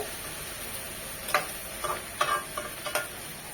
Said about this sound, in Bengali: একটু পরপর নেড়ে দেব